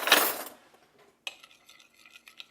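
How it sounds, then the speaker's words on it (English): A spoon stirring a mixture in a bowl for a chicken and dumplings casserole: a brief soft whoosh first, then a series of light, irregular metallic clinks against the bowl, close and quiet. "stir that together with a spoon"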